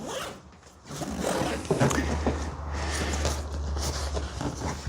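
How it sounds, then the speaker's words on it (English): A zipper being pulled along a motorcycle seat bag in a few drawn-out strokes, close and fairly quiet, with a low steady hum underneath. "So if we zip that back up,"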